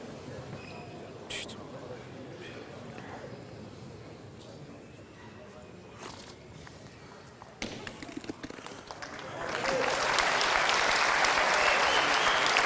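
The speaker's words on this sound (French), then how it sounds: "Applaudissements pour Monsieur Lacroix." Spectators at a petanque masters final start clapping for a player; scattered taps and sparse sounds give way to a swell of loud, sustained applause near the end, with speech around it.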